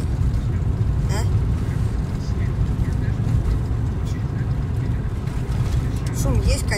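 Inside a moving Cube car with only its roof soundproofed and running on summer tyres, a constant low road rumble fills the cabin, loud and unbroken throughout.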